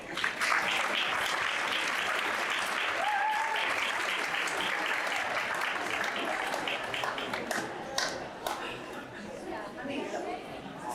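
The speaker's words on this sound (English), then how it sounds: "Please give her a warm round of applause." Audience applause at a high school band concert, a steady dense wash of clapping held for the whole stretch with some crowd chatter mixed in, tapering slightly toward the end.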